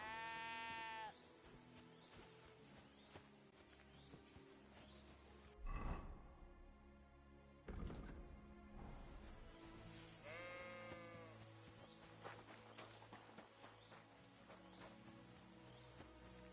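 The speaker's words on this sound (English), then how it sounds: "Where the fuck is that sheep lying" Sheep bleating in the video game Kingdom Come: Deliverance 2, a few wavering bleats near the start and middle over a soft bed of crickets and rural ambience, with brief louder thuds between.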